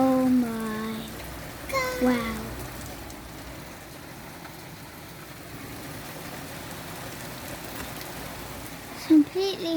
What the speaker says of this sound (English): completely hailing.